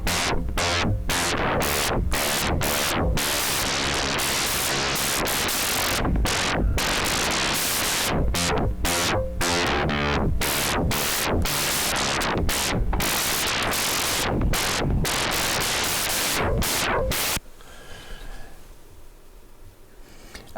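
Free Airwindows Distortion plugin for Mac, Windows and Linux processes music into a dense, saturated, gritty wall of sound with pulsing beats, then cuts abruptly to quiet near the end.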